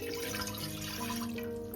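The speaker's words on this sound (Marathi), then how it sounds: "कुकर ठेवले त्याच्यात पाणी टाकू" Water pours steadily into a pressure cooker on the stove while a prawn curry is being prepared, a continuous close splashing rush that lasts throughout with no talk.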